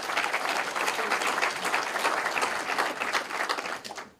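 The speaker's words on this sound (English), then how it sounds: "Please give the team that has prepared the SORA in such an awesome and excellent way a big round of applause." An audience at a regional state-of-the-region address in Hardap gives a sustained round of applause, dense and steady clapping that fades away near the end.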